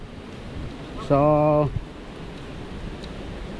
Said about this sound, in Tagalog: Ito na, naririnig na namin yung lagaslas ng tubig.